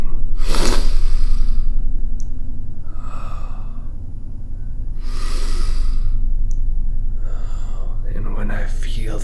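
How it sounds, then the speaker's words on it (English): A person does a deliberate breathing exercise, taking slow, deep, audible breaths close to the microphone. About four long inhale-exhale cycles come in a calm, even rhythm, with no speech. "So I do the breathing."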